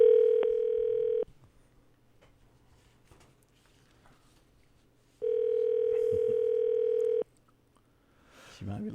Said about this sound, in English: We are dialing. I hope I dialed the right number.